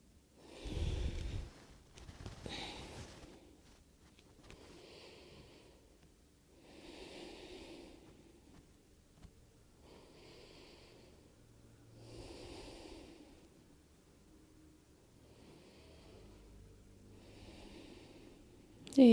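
Slow, regular breaths during a pilates floor exercise, about six soft inhale-exhale cycles spaced evenly, close and quiet with no talk.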